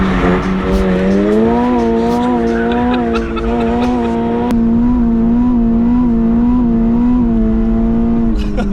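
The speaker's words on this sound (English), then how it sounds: "Oops, broke traction." Car drifting on a wet road as the tires break traction, a loud engine whine rising and falling with wavering pitch while tire squeal and skidding run continuously underneath for several seconds.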